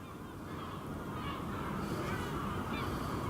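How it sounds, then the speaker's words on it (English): Ducks calling outdoors at night, a steady murmur of honking, goose-like calls at moderate distance, continuous throughout with no talking over them. "It's ducks. Yes, birds, ducks."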